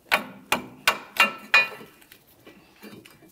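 Five sharp metallic hammer blows ring out at a steady pace while a Ford Fusion front strut is knocked free from the axle, each strike close and loud with a short ringing decay, followed by a few faint taps.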